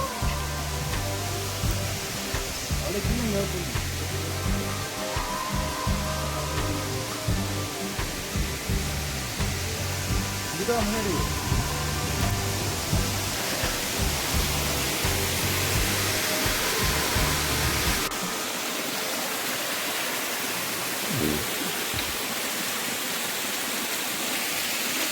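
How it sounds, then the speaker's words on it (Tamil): Kiliyur Falls waterfall in a forest near Yercaud, a steady broadband rush of falling water heard continuously and fairly loud, with the low part of the roar dropping away near the end. "அந்த காட்டு பகுதியையும் நீர்வீழ்ச்சியோட சத்தத்தையும் கொஞ்ச நேரம் ரசிச்சுட்டு கிளம்பினோம்."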